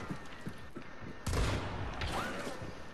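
Gunfire erupts in the Hunt: Showdown video game. A burst of shots fires near the middle, after several faint earlier pops, with low booming tails fading out and soft voices nearby.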